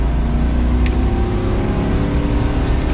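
An empty full-size pickup truck accelerates up a highway on-ramp, its mid-range engine drone loud and steady with road roar underneath, heard from inside the cab for a continuous stretch.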